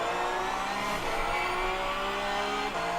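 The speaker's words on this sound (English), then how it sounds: "Let the car run out through all the gears, through the start-finish line." A Porsche Cup race car in iRacing on the Laguna Seca circuit climbs through the gears, its engine note rising in pitch, dropping at each shift and climbing again in a loud, continuous drone.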